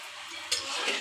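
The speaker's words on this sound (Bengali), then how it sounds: "অনবরত নাড়তে হবে যাতে ভাজাটা সুন্দর হয়" Singara (samosa) frying in hot oil while being stirred continuously, a brief soft sizzling hiss with a quick scrape midway, close and fairly quiet.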